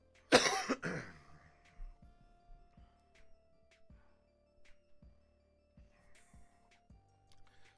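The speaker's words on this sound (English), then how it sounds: "I haven't been muting all my coughs" One sharp cough bursts out loud and close, followed by a quieter second one, then faint scattered clicks over a low steady hum during a Star Wars tabletop gaming stream.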